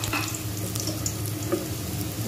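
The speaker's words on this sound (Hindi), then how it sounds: "इसमें लहसुन चॉप किया हुआ ये डाल देते हैं।" Chopped garlic goes into two spoonfuls of heated oil in a pan for tomato macaroni chicken soup, giving a steady, close sizzle and crackle throughout.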